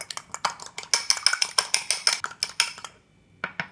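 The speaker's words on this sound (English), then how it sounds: "Just beat one egg" One egg beaten with a utensil against a bowl for egg wash, rapid rhythmic clinking strokes close by, steady for several seconds, then a short pause and a couple more taps.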